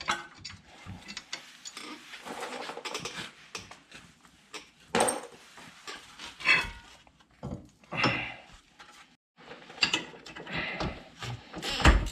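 A ratchet with a 12mm socket turning the brake caliper bracket bolts on a 2010 Acura TL, heard as bursts of rapid clicking and metallic clatter separated by short pauses, close by.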